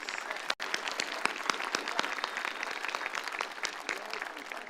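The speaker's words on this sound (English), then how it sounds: "Let's give a round of applause for our SMCISD Board of Trustees." At a high school graduation ceremony, a large crowd applauds the district board of trustees. The sustained clapping has distinct individual claps standing out and a brief dropout early on.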